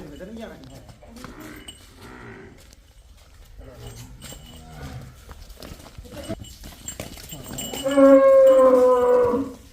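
Buffaloes and a cow on a dairy farm, with a single loud, drawn-out low moo rising near the end after stretches of people talking over quieter background stirrings.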